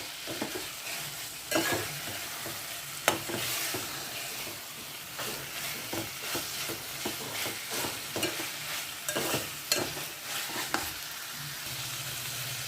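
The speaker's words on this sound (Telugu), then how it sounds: "హై ఫ్లేమ్లో వేయించుకుంటే ముక్క బాగుంటుంది" Chicken pieces frying on a high flame for a chicken fry, a loud continuous sizzle and hiss with frequent sharp crackles and spoon-stirring clatter throughout.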